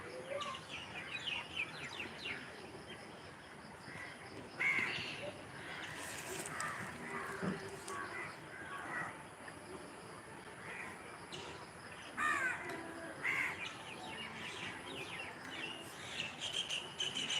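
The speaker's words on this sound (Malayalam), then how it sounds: "നീ കിളികളെ ഒന്ന് അടങ്ങിയിരി" Birds chirp and call intermittently in the distance over a faint insect and outdoor background, with brief murmured voices.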